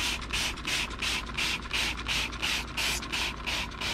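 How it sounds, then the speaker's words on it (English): Cleaner sprayed from a trigger bottle onto the coils of a dirty, moldy window air conditioner: a quick, even series of about a dozen hissing spritzes in rhythmic succession, fairly soft and close, with no talking. "I'm trying to spray it so it hits the other side."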